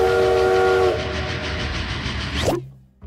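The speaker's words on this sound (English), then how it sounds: "So I got him this great sound of a chugga-chugga choo-choo" A recorded train sounds its horn with a long sustained tone over steady rumbling rail noise, then the clatter continues until it cuts off abruptly near the end.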